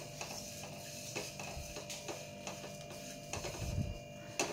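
Whole spices are stirred continuously while dry-roasting in a pan, producing faint crackling and repeated rhythmic scrapes of a spoon over a low background hum.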